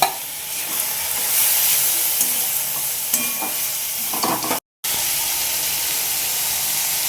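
Cumin, coriander, turmeric, garam masala and chilli powder fry together in a hot pan, giving a continuous loud hissing sizzle with occasional stirring scrapes and a brief dropout partway through.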